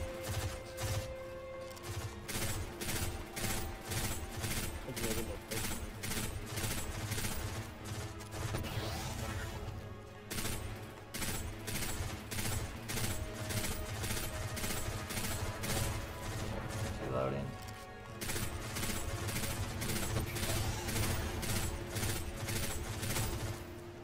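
Rapid pulse rifle bursts in the shooter game Destiny during a Grandmaster Nightfall strike, dense rhythmic volleys of gunfire repeating steadily over a quiet background with mechanical clatter and occasional game effects.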